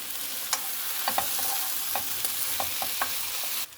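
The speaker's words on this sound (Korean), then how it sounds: "이제 식초가 잘 섞이도록 좀 이렇게 저어주고요. 부추를 넣어줄게요." Eggplant sizzles in a pan with vinegar and garlic chives as a spatula stirs through it, a steady frying hiss broken by a dozen or so sharp clicks and scrapes of the utensil against the pan.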